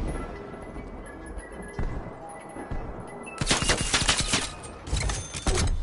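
Rapid bursts of submachine gun fire in a video game, preceded by quieter ambience, then dense rattling volleys with short pauses between them, loud and close.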